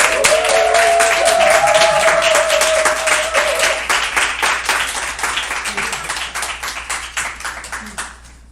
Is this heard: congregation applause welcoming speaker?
yes